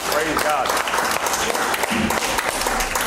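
A church congregation claps for a worship leader, a dense burst of applause with shouting and cheering voices mixed in, steady and loud throughout the whole stretch.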